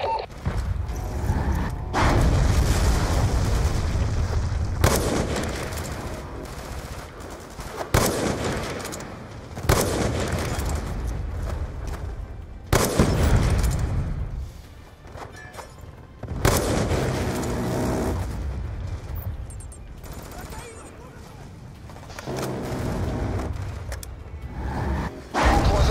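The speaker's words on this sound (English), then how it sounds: "Stand by for rocket out." Rocket fire support in Call of Duty Black Ops 2, a series of heavy booming explosions and bursts of gunfire at irregular intervals, loud and close, with brief quieter gaps between blasts.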